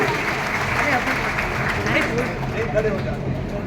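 Steady applause from a crowd fills the whole stretch, dense and continuous, with murmuring voices mixed in underneath.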